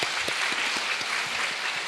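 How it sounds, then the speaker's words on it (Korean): A church congregation gives a short burst of encouraging applause, a dense even wash of many hands clapping together throughout, with no voices. "격려의 박수 드리겠습니다."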